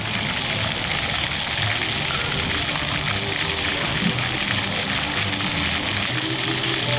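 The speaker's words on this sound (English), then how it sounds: "the biggest expansion at the Polynesian Island Tower is the Moana splash pad" Water gushing steadily at a Moana-themed splash pad at Disney's Polynesian Resort, a constant broadband rush with a low mechanical hum beneath it, continuous and fairly loud throughout.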